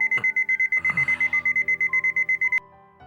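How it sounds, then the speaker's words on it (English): An alarm clock rings in the visual novel game 9-Nine, with a rapid run of about twenty loud, evenly spaced electronic beeps that cut off abruptly with a click, leaving quiet room tone. "I wake up a few seconds before my alarm and stop it as soon as it rings."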